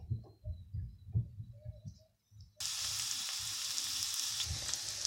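Onion hits a hot pan for Hakka noodles and bursts into a loud, steady sizzle that holds to the end, after a few seconds of low clinks and handling sounds.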